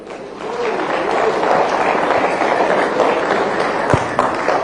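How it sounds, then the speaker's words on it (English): An audience applauds after a speech at a dialogue on small-scale mining in Ghana, a fairly loud continuous patter of many hands clapping, with a few sharper knocks near the end. "The applause can be louder, ladies and gentlemen."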